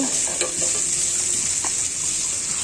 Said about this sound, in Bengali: ভাজা হয়ে গিয়েছে মাছগুলো